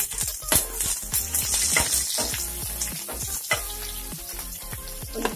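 Green chili pieces and peppercorns fry in oil in a pan, a steady close sizzle broken by sharp crackles and a few stirring scrapes, with no talking.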